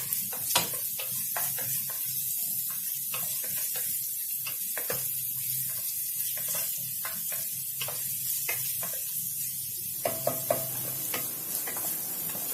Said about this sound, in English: Next, we are going to add our onion and saute that too.